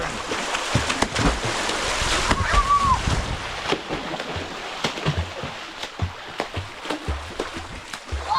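People splash and slosh in water on a farm outing with friends, with a series of close irregular splashes and churning water and a brief voice in the middle.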